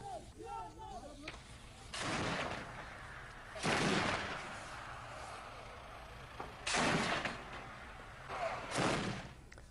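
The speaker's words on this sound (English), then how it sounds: "The sound of artillery and machine gun fire echoed across the border" Sharp, heavy booms of artillery and machine gun fire across the border near Kobani, several loud blasts spaced a few seconds apart with rumbling tails, heard from a distance.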